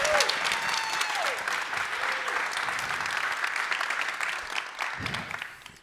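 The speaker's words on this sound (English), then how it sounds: "And would everyone give them a round of applause?" A large audience at a company brand launch event applauds steadily and fairly loudly throughout, a dense wash of clapping that holds on before fading slightly near the end.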